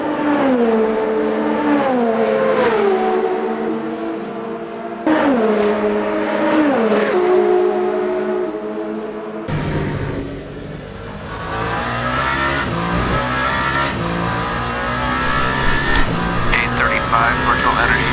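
Number 36 Alpine race car in Le Mans Ultimate, racing from Indianapolis into Arnage during a 24-hour race, loud engine revving through repeated downshifts and accelerating away, with a voice talking over it.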